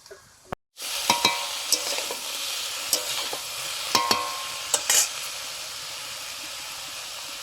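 Vegetables and fried hilsa fish heads are stirred in a hot pan, giving a steady close sizzle broken by sharp spatula scrapes and clinks every second or so, with no one talking.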